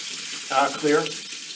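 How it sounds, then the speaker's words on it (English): Tap water runs steadily over a cup of rice being rinsed in a bowl, a continuous close splashing wash, with a voice speaking briefly over it. "rinse it just until the water starts to run clear"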